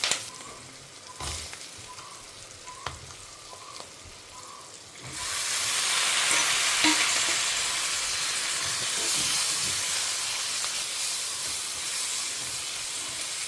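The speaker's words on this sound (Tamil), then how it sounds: "காய் கொஞ்சம் நல்லா வதங்கட்டும்." Vegetables and small onions sauté in a pan. A quiet stretch with a few knocks gives way to a steady, louder hissing sizzle that continues to the end.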